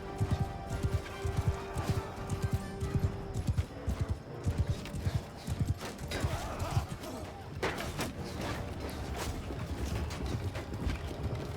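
A horse gallops across the battlefield in Mount & Blade II Bannerlord, its hooves beating a fast, steady clip-clop that later sinks into a denser wash of battle noise.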